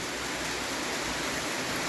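Steady rain falls in an unbroken, even hiss, loud and enveloping, with no breaks, drops standing out or voices.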